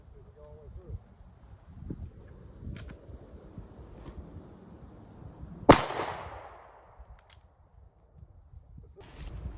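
A single loud, sharp shot from a Rossi 92 rifle chambered in .45 Colt, fired into a cloth target, cracks once and then rings out into a fading tail. Low outdoor rumble and some faint talk surround it.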